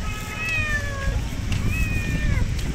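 A small kitten meows twice, clear and fairly close, over a steady rumbling background noise as someone walks outdoors carrying it.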